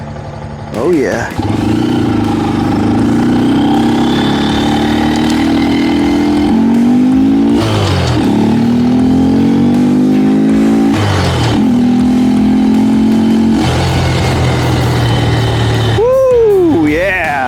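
Out on the road, a Honda Grom motorcycle with a K&N airbox filter pulls hard through repeated rising revs, each climb cut short by a gear change, loud and close throughout with a final blip at the end.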